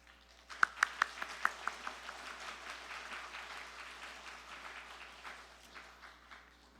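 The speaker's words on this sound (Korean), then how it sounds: "한번 나오실 때 한번 환영하면서 박수로 환영하겠습니다" Congregation applause welcoming a guest speaker at a church worship service: a few sharp early claps swell into steady, moderately distant clapping that slowly fades.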